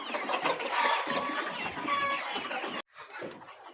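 Layer hens cluck steadily in a poultry house during feeding, a dense, close chorus of overlapping calls that cuts off sharply near the end and resumes more faintly.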